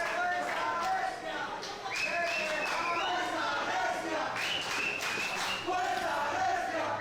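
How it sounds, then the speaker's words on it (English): Loud crowd at a lucha libre wrestling show cheering and yelling for a fan-favorite wrestler, with chants and whistles rising and falling steadily throughout, voices blending into a dense roar. "The crowd is really into Fuerza Recia right now."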